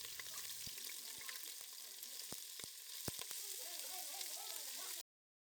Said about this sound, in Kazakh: Қызып тұрған майға етімізді жайлап салып отырамыз.